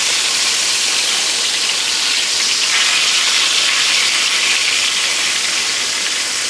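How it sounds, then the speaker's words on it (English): Food sizzles steadily in hot lard in a pan, a loud, even hiss that runs unbroken and close-up with no voices. "We're going to let these continue to fry."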